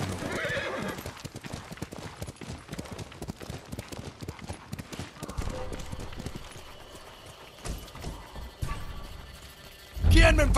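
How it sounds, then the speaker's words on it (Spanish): A horse galloping in the Ghost of Tsushima video game, rapid clip-clop hoofbeats close and steady with a whinny near the start and another loud neigh at the end. "¡Caballo!"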